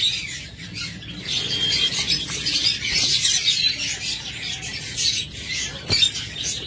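Pet lovebirds and budgerigars, including violet high-mutation birds, chatter in a steady busy stream of chirps and squawks from a nearby flock, with one sharper call standing out near the end.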